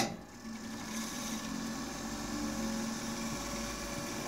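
A Dictaphone dictation cylinder shaving machine with new belts runs steadily with a soft, even mechanical hum and faint whirring, quiet and continuous with no talking.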